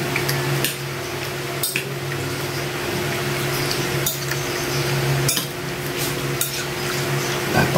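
A spoon clanks against a cooking pot while a simple Filipino home-cooked viand is stirred, with a few sharp metallic knocks spaced over a steady background hum of cooking.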